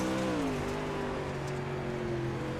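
Dirt late model race cars racing at Knoxville in heavy lap traffic: a loud, sustained engine drone with a strong tonal whine that dips slightly in pitch as cars roar past, continuous throughout.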